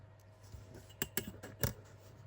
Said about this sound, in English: And then just cut round the tab.